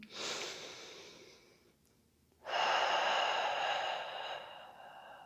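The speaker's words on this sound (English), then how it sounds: "One more breath in." Deep yoga breathing is heard up close: one long, airy breath, a brief quiet gap, then a second fuller, louder breath held for a couple of seconds.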